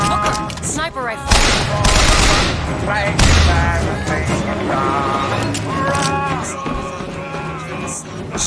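Gunfire from the video game BioShock Infinite, including a sniper rifle, sounds as loud bursts and single shots under game dialogue and music, with a heavy blast near the start and continuous combat noise throughout.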